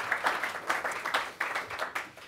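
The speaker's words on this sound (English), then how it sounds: "Applause is allowed, by the way." Scattered audience applause at an Oxford-style debate, a modest room of hands clapping in uneven bursts that rise and dip over a couple of seconds, with no voices.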